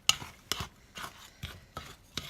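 A wooden spoon stirs toasted pecans into dry ingredients in a bowl, giving about six soft, rhythmic scraping strokes roughly every half second, close and quiet.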